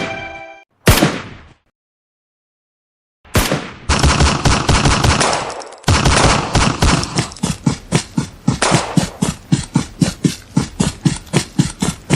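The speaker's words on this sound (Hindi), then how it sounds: "भूरा, यहाँ पटाखे नहीं गोलियां चल रही है।" Battlefield gunfire: single loud shots, then a pause, then rapid sustained machine-gun bursts that settle into a steady, rhythmic series of sharp close reports over a rumbling engine-like drone.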